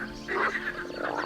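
A single frog croaks once in a short, fairly faint call against quiet background.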